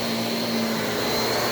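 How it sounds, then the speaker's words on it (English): A Shark vacuum cleaner runs steadily up close, a loud continuous motor whine and rushing airflow with no pauses while its suction is tested. "I want to experiment here and see what this does to the vacuum"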